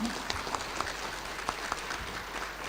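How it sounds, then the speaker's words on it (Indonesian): Audience at a graduation ceremony applauding, a steady broad wash of clapping with scattered sharper claps, moderately quiet and sustained throughout. "Boleh dong tepuk tangannya?"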